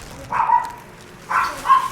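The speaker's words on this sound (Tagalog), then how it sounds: "may ingay aso sa harapan namin" A dog barks in front of the house during a golf bag unboxing, two short bursts about a second apart, fairly close but not loud.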